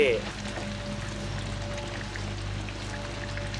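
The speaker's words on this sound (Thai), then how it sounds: "ฝนตกหนักใหญ่เลย" Heavy rain in the horror video game Outlast, a steady hissing downpour with a low rumbling bed and faint tonal hum, continuous throughout at moderate level.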